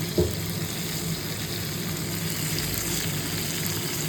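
Onions frying in hot oil give a steady, even sizzle and hiss throughout, after a brief clink at the start.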